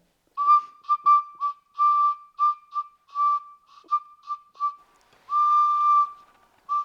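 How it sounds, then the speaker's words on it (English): A breathy flute plays a short melody of clear, separate notes, some brief and some held, alone against silence. "Sometimes I'll hear the sound of flutes being played."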